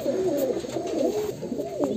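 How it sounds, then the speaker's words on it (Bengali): Breeding pigeons coo close by in soft, rolling, throaty calls that overlap for a couple of seconds against low background noise, with no talking. "পায়রার ব্রিডিং পেয়ারগুলো কেমন হয়েছে"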